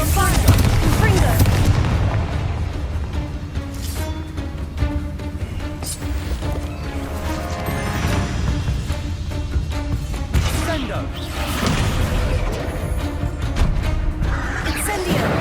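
Bombarda and Confringo spell blasts in Hogwarts Legacy going off amid thick combat noise, with booming, explosive bursts stacked over a continuous loud bed of effects and music, and some speech mixed in.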